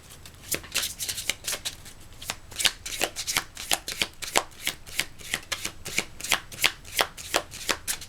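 Tarot cards are shuffled and drawn by hand, producing close, crisp riffling bursts that repeat in a quick, uneven rhythm over several seconds, with no talking.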